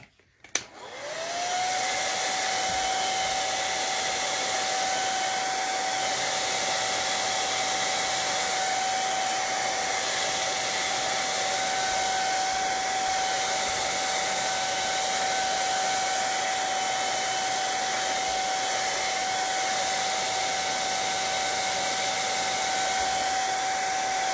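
A hair dryer switches on and blows air over craft hats, a loud, steady whine and rush that holds unchanged for over twenty seconds with no talking.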